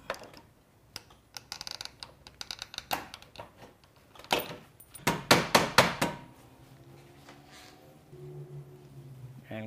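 Metal shears square-cutting a standing seam metal roof panel at a valley, giving a run of sharp clipped snips and taps, loudest in a quick burst midway, followed by softer handling noise.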